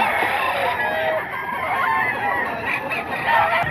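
A rooster crows amid a noisy outdoor setting at a gamecock owner's yard, its call rising from steady background chatter and ambient clamor across the few seconds.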